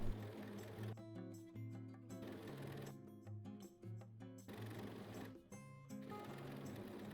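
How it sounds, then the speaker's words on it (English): An overlocker finishes the seam allowances on elastic-waist shorts, a soft continuous hum with a low tonal drone, interrupted by three clattering bursts of rapid mechanical rattling, quiet overall. "I'm using an overlocker with the inside leg facing up"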